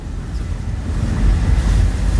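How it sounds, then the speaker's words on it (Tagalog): Sea waves wash steadily onto a shore after a typhoon, a continuous low rushing roar mixed with gusty wind buffeting the microphone, with no talking. "Dagat na to, Sam."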